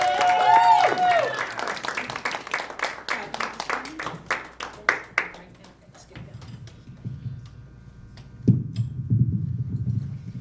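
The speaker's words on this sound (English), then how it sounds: "give him a big round of applause as he makes his way to the stage" An audience applauds as a fourth-grade boy walks to the stage at a library open mic, dense clapping that thins into scattered claps and fades within about six seconds, then low room noise and a brief voice.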